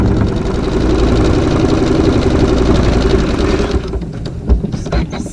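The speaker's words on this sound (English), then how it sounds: "And then I can sew my seam using my regular thread." A sewing machine stitches a fabric seam on a log cabin triangle quilt block with regular thread, running in a steady, loud, rapid mechanical drone for nearly four seconds before stopping, leaving a few scattered handling clicks.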